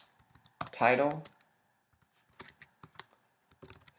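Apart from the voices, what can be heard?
typing code on a computer keyboard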